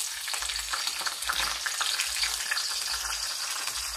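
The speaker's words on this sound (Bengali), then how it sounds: "আগে ফুলকপিটা ভেজে নেব।" Cauliflower frying in white oil in a pan for chowmein, a steady dense sizzle with crackling and occasional stirring, close and continuous with no talk.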